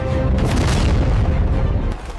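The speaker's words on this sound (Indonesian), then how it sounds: "Saat amunisi Israel menipis, rudal-rudal paling mematikan Iran dilepaskan." Iranian missiles launch with a loud, sustained booming roar, a dense low rumble that fills the whole stretch before easing slightly at the end.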